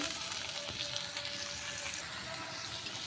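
Onions frying in a pan for a dhaba-style tarka dal give a steady, close sizzle with a faint crackle throughout, and no one speaks.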